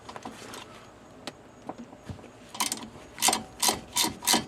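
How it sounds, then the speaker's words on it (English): A 7mm Allen wrench works a tight brake caliper bolt on a Ford Focus, giving scraping metallic clicks and ratcheting rubs, then a run of louder rhythmic grinding turns near the end. "stick your 7mm Allen wrench in there and take that one off"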